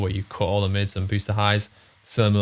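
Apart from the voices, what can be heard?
None of the usual background noises is heard.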